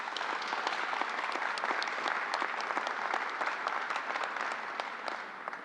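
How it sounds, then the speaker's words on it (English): Audience at a community college announcement gives a round of applause for New Yorkers, a full, sustained burst of many hands clapping that holds steady, then eases slightly toward the end. "let's give a round of applause to all New Yorkers"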